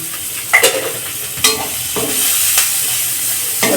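Onion, carrot, capsicum and cabbage stir-fry over a high flame, with a steady loud sizzle and several sharp scraping strokes of a spatula against the pan, spaced irregularly.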